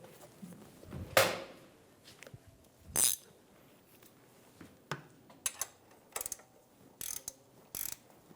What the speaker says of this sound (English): Snug the bolt down.